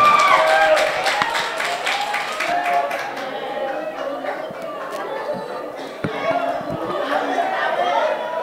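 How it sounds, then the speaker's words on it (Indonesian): An audience at a student speech contest in an Islamic boarding school claps enthusiastically: a dense burst of close handclaps that gradually thins into scattered claps and chatter, with an announcer's voice heard over the room. "Tepuk tangannya yang meriah."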